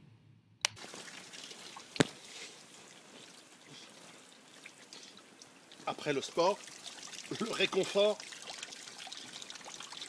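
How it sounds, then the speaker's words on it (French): Cold shower water runs and trickles softly in a bathroom, growing more splashy toward the end, while someone speaks French over it. "rien de tel qu'une bonne douche très froide"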